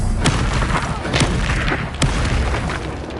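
The Confringo fire spell in Hogwarts Legacy lands in a few dull booming impacts over a dense, rumbling background of magical combat.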